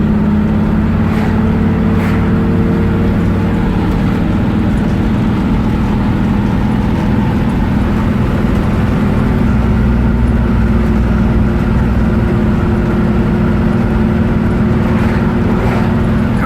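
A 1974 Jaguar XKE V-12 roadster driving on the road, its engine droning steadily and loud with wind and road rush while it shifts gears around 30 mph.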